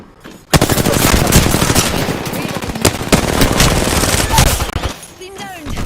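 Rapid automatic gunfire rattles in the video game Apex Legends: a loud, dense burst of shots that runs almost continuously for several seconds, with game sound effects and voices mixed in.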